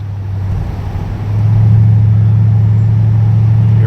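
A 2007 Mercedes-AMG SL55 engine goes flat out from inside the car, a loud, steady low rumble that swells after about a second and holds at full strength.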